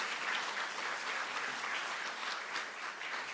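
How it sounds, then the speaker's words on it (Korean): A church congregation applauds to welcome a newcomer at a Sunday service, giving a steady, full round of clapping from many hands that fills the room. "박수로 환영하겠습니다."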